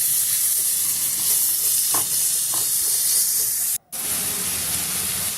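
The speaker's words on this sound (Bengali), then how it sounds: "আমি নেড়ে চেড়ে আদা, রসুন, কাঁচা লঙ্কার সাথে ভালো করে মিশিয়ে নেব।" Onion with ginger, garlic and green chilli sizzles steadily in a frying pan as it is stirred, a close, even hiss broken by a few soft scrapes and a brief cut-out near the end.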